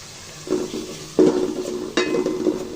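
Spice paste with green chilli, dried chilli powder and salt being stir-fried in a pan, heard as a steady low sizzle broken by three clattering spatula scrapes and clinks against the metal.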